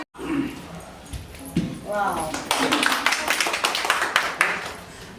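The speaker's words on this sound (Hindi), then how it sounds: "तालियां" At a teachers' workshop for ASHA staff, a group breaks into brisk clapping after a few moments of speech, a steady patter of many hands continuing close and fairly loud to the end.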